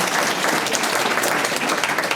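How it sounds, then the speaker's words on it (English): Loud, dense round of applause from a conference audience at a policy launch event in Washington, D.C., continuous clapping from many hands filling the whole moment without a break. "let's give a round of applause for our participants."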